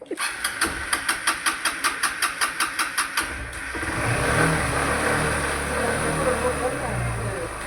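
A motorbike engine turning over in a rapid string of evenly spaced putts, then catching and running with a steady, rough rumble that swells as it revs, close up.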